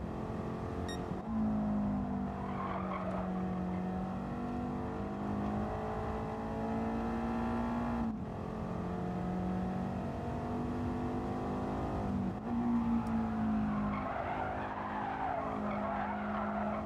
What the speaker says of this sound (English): Going down to lower gear just makes the car slide.